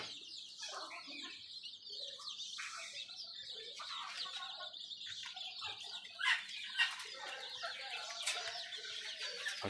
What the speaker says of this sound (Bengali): আমার ছাদ বাগানে তো দেশি মুরগি তো আছে